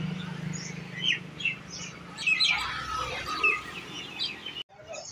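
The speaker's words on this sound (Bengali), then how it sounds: "দেখুন সে শালিক পাখি এখনো আছে।" A flock of myna birds chirps in short, scattered bursts at a village crossroads in Plassey, Nadia, moderately close and lively over a low background hum, with a brief drop-out near the end.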